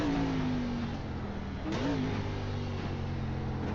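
A race car engine drones loudly from inside the cockpit while accelerating around the Circuit of the Americas track, its pitch sliding down then climbing again through a gear change, steady and close with no talking.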